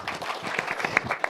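A brief burst of audience applause rings out at an AI startup growth strategy briefing hosted by Korea's Ministry of SMEs and Startups, as an official walks onstage, with scattered sharp claps over a steady patter.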